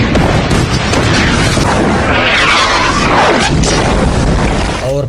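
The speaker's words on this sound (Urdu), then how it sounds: "کعبہ پر توپوں کے ذریعے گولے برسائے گئے۔" A dense, continuous roar of cannon fire bombarding the Kaaba, with overlapping booms and crashing blasts filling the space loudly throughout, and a voice briefly at the end.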